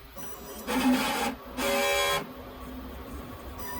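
A DX11/XP600 printhead on a large format printer runs a cleaning cycle, giving two mechanical whirring bursts of about half a second each, separated by a short pause, over a steady low background hum.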